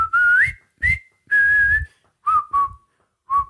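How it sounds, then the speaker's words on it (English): A lone person whistles a jaunty march tune in short bouncy phrases separated by brief pauses, clear and close. "that little whistling ditty"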